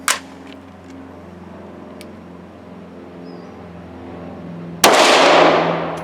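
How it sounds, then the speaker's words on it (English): Shots from a PSA Rock 5.7 pistol: one sharp crack at the very start, then after several seconds of quiet background a second loud burst that lingers and rings out. "No, I'll just shoot it."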